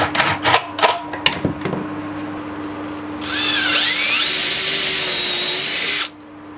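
A power drill driving pocket screws into a glued 4x2 timber bench frame: several quick clicks and short bursts, then one sustained high whine that rises in pitch as the screw seats and stops abruptly, loud and close.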